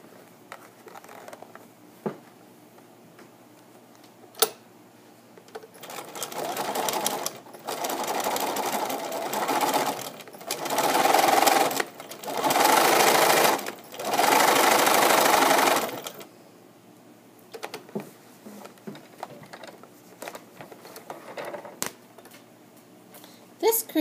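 A sewing machine runs in several bursts of steady stitching while sewing a second seam line on mittens, with pauses between runs and a person talking in the quieter stretches.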